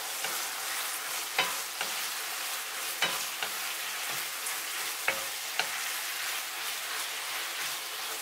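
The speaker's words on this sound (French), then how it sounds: "Je remue brièvement." Mongolian beef sizzles steadily in a hot pan with fresh chili and chives, a loud continuous frying hiss close by, punctuated by periodic scrapes and knocks of a utensil stirring.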